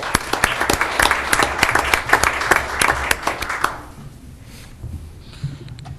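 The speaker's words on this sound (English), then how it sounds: "Round of applause for John." A room at a Falls Township supervisors' meeting breaks into applause for a holiday house decorating contest winner, steady close clapping from a modest crowd that fades out after about four seconds into quiet room tone.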